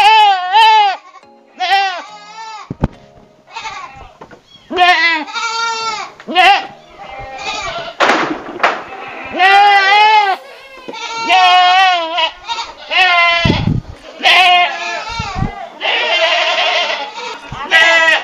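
Kacang breeding does in individual pens on a goat farm bleat repeatedly and loudly, wavering cries overlapping close by, with someone talking in between.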